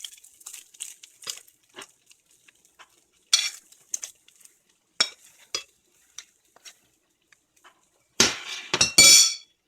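A spoon stirs cabbage and potatoes in a pan with scattered scrapes and light metallic clinks, mostly soft and irregular, ending in a louder flurry of scraping strokes.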